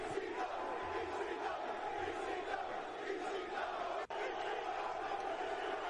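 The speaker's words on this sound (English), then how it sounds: "you can hear the crowd just lighting up right now" A dense wrestling crowd roars and yells steadily as a wrestler makes his entrance carrying a cane, a continuous wash of distant cheering with no break.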